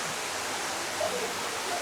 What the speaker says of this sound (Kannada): ಈ ಸೈಡು ಒಂದು ನದಿ ಹರಿತಾ ಇದೆ. ನದಿ ಅಲ್ಲ, ಹೊಳೆ, ಸಣ್ಣ ಹೊಳೆ ಹರಿತಾ ಇದೆ